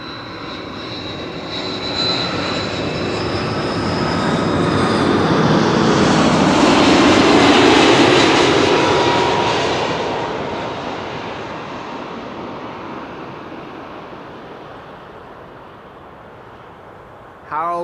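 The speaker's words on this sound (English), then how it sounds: "KLM flight 767 arriving from Bonaire." A KLM airliner arriving at Amsterdam Schiphol Airport roars in, swelling from a distant whine to a loud jet rumble overhead and then fading away, with a voice faintly under the engine noise.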